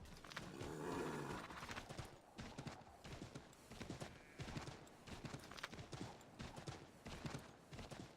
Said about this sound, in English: Swear to God, if I end up flying on a horse, I'd be angry.